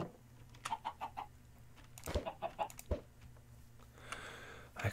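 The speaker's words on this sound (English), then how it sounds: "I could kill some of these chickens, but I don't think I need to." Chickens cluck in the Minecraft video game, a run of short evenly spaced clucks followed by a few more scattered ones over a faint background hum, with a soft rustling noise near the end.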